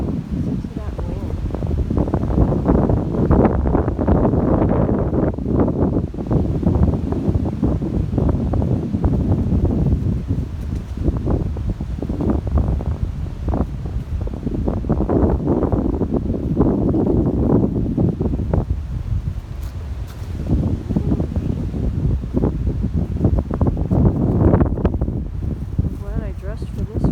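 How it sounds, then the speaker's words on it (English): Wind blowing through a park on a cold day, loud gusty rushing and buffeting against the microphone in repeated surges across the whole stretch, with leaves and branches rustling. "Listen to that wind."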